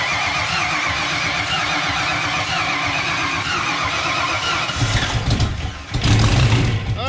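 An '88 vehicle engine cranking on its first start attempt, a steady rhythmic churning that briefly catches and rises in a rough burst near the end without fully running.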